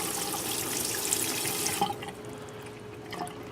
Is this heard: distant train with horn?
no